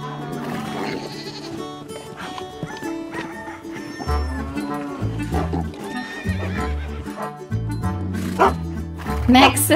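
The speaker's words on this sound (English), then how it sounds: "the farm dog, alerts everyone" A toy farm dog barks in a children's farm-animal toy scene, with short barks toward the end over busy background music, mixed with horse neighs and clip-clop effects.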